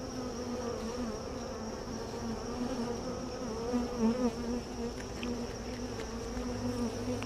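Honeybees buzz steadily around an open hive during an inspection on a cool, overcast day. The dense drone stays close and continuous throughout.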